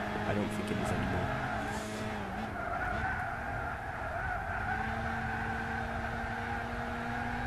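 Tyres squeal and skid on a car during a 400 PP Clubman Cup race in the Gran Turismo 6 racing game on PlayStation 3, a sustained screech over a steady engine drone, with a voice talking over it.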